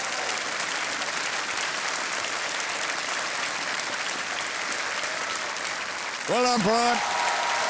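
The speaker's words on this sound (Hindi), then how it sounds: "ताली बजती रहनी चाहिए।" Studio audience applause on the KBC quiz show set, sustained and steady throughout, with a host speaking over it and a brief chime-like musical sting near the end.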